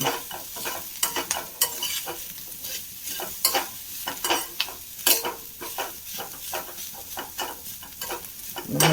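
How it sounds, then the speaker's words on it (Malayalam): Masala for a prawn curry with bottle gourd is stirred and fried in a pan, a spoon scraping in repeated strokes over a steady sizzle, close and fairly loud, with no voices. "കൂടി ചേർത്ത് നന്നായി ഇളക്കി ഒന്ന് മൂപ്പിച്ചെടുക്കാം"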